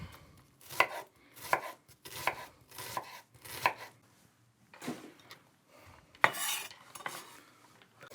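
A knife chops vegetables, including a strong onion, on a board for cottage pie, with a steady run of close, crisp chops followed by a few scattered cuts and a clatter, no voices.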